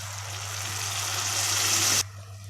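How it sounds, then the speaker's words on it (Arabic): A garlic clove hits sautéed onion frying in ghee, setting off a steady loud hiss of sizzling that builds for about two seconds and then cuts off abruptly, leaving a low hum. "ادي معلقتين سمنة، شوحت البصلة، هننزل بفص الثوم"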